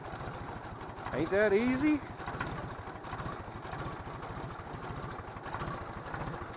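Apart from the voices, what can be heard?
tractor engine starting and idling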